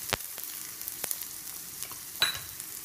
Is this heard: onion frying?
yes